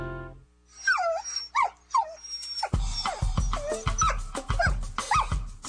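A dog in a radio advertisement for a dog daycare and socialization centre gives a few high, whining yips alone. Then a dense, busy stretch of sound follows, with more yelps mixed in.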